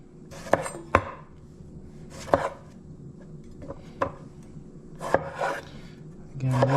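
A knife chops a tomato on a cutting board, a handful of sharp, separate knocks at an uneven pace, close and fairly quiet, with soft scraping between strokes.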